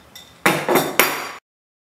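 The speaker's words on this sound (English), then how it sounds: "take your adjustable wrench and give it a few more turns to make sure it's secure" Adjustable wrench tightening the fitting on an AQUATEK Deluxe CO2 regulator, three close sharp metallic clinks in quick succession, each ringing briefly before a sudden stop.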